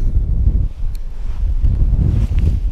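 Strong, cold wind buffets the microphone beside a river during early-season spinning fishing, a loud, rough low rumble with gusty fluctuations and faint rustling, no voices.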